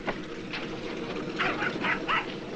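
In a 1954 film, a few short, yappy dog barks sound in quick succession over a steady rumbling background, fairly faint and somewhat distant.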